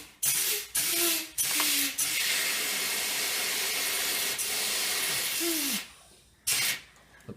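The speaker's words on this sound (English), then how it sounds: "definitely doing just small short bursts of air" Compressed air blasts through a car heater core clogged with Dexcool sludge on a Pontiac Grand Prix. A few short hissing bursts come first, then one long sustained blast, then a final short burst, all close and loud.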